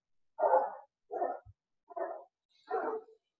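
A dog barks four times at a moderate distance, in evenly spaced single woofs separated by short silences, with no other sounds between them.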